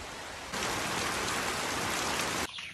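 Steady heavy rain pours down in a dense, hissing wash that swells after a quieter start and cuts off near the end.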